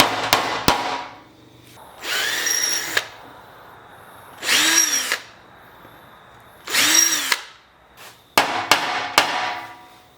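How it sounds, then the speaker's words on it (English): A power drill whirs in several short bursts while drilling out a hole slightly wider, spinning up and winding down, with sharp clicks and taps between runs and no talking. "I'm going to use a drill to drill out the hole just a little bit"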